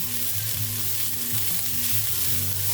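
Fried rice sizzling in a pan as it is stirred fast right after a scant teaspoon of liquid goes in, a steady loud hiss with close stirring scrapes and no voices.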